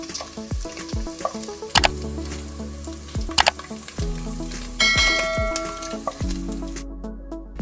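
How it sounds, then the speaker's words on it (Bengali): Chopped coconut fries in hot oil over low to medium flame, a steady close sizzle broken by repeated sharp metallic clinks of a utensil against the pan. "তেল গরম হয়ে গেছে, তাই দিয়ে দিচ্ছি কুচিয়ে রাখা নারকেলটা। লো টু মিডিয়াম ফ্লেমে ততক্ষণ ভাজবো যতক্ষণ না নারকেলগুলোতে হালকা লালচে ভাব আসে।"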